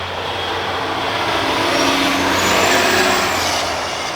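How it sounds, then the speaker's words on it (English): A truck passes on a nearby road during construction, its broad engine rumble and tire roar swelling as it approaches, then easing slightly as it goes by. No talk is heard. "They must be doing construction down the road or something. That's like the 6th truck since I've been out here."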